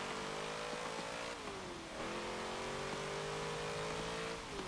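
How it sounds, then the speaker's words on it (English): A 1963 Volkswagen Beetle fitted with a twin-turbocharged V8 in Forza Motorsport 7, engine droning loud and steady with rising and falling revs as it accelerates and shifts, no voices. "It's got a twin turbocharged V8"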